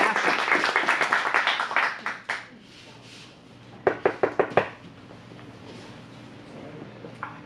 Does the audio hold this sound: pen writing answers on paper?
no